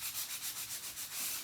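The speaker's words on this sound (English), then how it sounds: "I will just use a little sanding block for that" A small sanding block rubs over glued paper on a painted sign board in quick, even back-and-forth strokes. The rasping is close and steady, about five strokes a second, with no voices.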